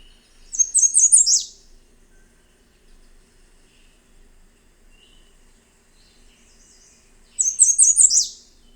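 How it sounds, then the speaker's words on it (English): A recorded warbler song plays twice, each a quick, high, trilling phrase about a second long. A quiet pause separates the two phrases. "this is one of those warblers that I've listened to the song for and not remembered"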